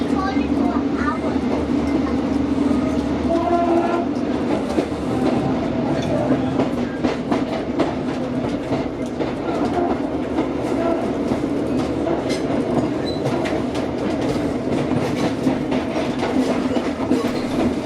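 Northern passenger train running on rails near Carlisle, a steady rumbling ride with rhythmic clickety-clack wheel beats and rattles heard from inside the carriage, with faint voices in the background.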